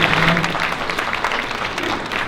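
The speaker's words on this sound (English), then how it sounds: "So big round of applause once again for" Applause from the audience at a community fundraising anniversary event, a sustained dense patter of clapping from many people, fairly loud and even.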